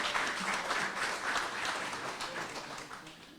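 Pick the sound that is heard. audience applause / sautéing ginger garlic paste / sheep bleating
audience applause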